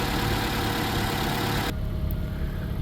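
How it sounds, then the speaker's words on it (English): A 2015 Toyota Corolla with a 2.5 liter naturally aspirated engine idles steadily, a close, even low rumble and hum with no speech, the background noise dropping slightly partway through. "Engine seems to be running good as well."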